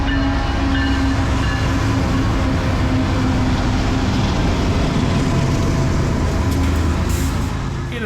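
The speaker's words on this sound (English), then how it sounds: "watching the trains go by" Trains rolling past in Kingman, Arizona: a steady, continuous rumble of railcars with a sustained tonal hum and faint clickety-clack, close and loud throughout with no voices.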